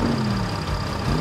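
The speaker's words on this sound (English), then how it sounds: "Drivers, start your engines. Listen to those engines roar." Army tank engines rumbling in a children's vehicle cartoon, a steady low idling drone with a heavy engine hum and no talk over it.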